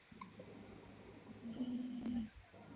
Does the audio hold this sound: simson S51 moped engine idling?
no